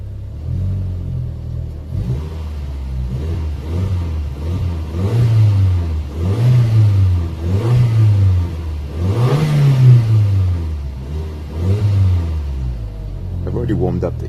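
A warmed-up Audi S3 8L with the 1.8L engine and Milltek exhaust revs repeatedly, several loud rising-and-falling blips over a deep steady idle rumble, close by.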